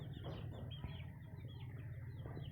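Aseel chickens and chicks at a coop give faint clucks and soft chirps in short repeated calls over a low steady hum, all fairly quiet and distant.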